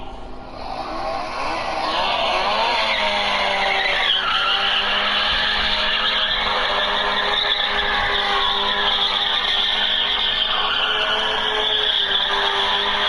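Continuous tire squeal from a rotary-engined car sliding in a racing game, a sustained loud screech with a steady engine drone underneath that holds for the whole stretch.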